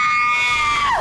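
Woman's shrill, sustained scream at high pitch, fairly close, tailing off with a falling glide at the end; no speech.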